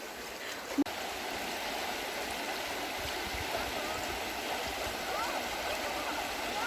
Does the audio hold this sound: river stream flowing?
yes